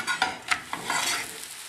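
A chocolate crepe turned over and cooking in a pan, giving a brief close sizzle with a few soft scraping taps of the flip at the start, loud and short, no talking.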